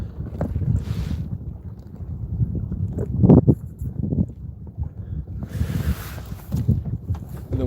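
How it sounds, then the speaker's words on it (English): Gusty wind buffeting the microphone on a small Bris 14.1 fishing boat out on open water, rumbling and rising in bursts, with faint knocks and water movement underneath. "The wind is picking up again."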